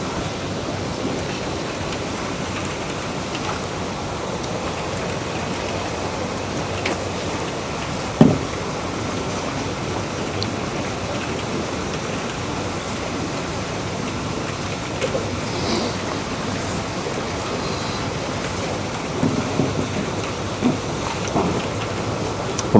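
Rain falling outdoors during a fishing trip, a steady dense hiss of drops lasting the whole time with a few faint louder taps and distant rumbles, no voices.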